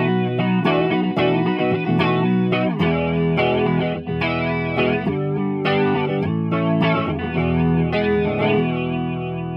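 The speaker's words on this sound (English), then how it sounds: "Then moving around to flanger." Electric guitar through a Blackstar ID:60 amp with the flanger effect engaged: continuous distorted strummed chords with a swirling, jet-like sweep, steady and fairly loud throughout, no talking.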